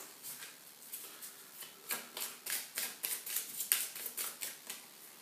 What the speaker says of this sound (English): Let's shuffle those guys again